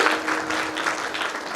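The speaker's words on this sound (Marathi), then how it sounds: "त्यांनी एकदा टाळ्या वाजून आशीर्वाद" A short burst of audience clapping at a devotional kirtan gathering, dense and fairly close, lasting under two seconds.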